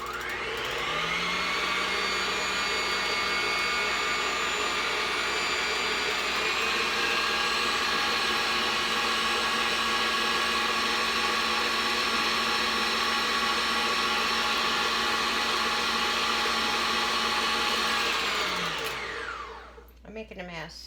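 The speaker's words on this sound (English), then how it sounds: "Basically, you want to mix all of your wet ingredients together first." A blender or hand mixer whirs loudly and steadily, mixing wet ingredients for applesauce raisin cinnamon bread, with the pitch shifting slightly partway through before the motor winds down and cuts off near the end.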